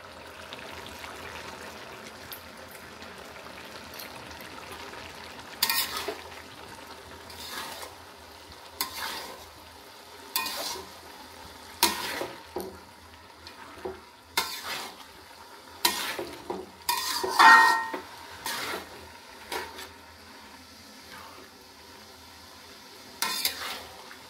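Green chilies frying in a pan with a faint steady sizzle, broken by repeated bursts of a spatula stirring and scraping against the metal, close and recurring every second or two.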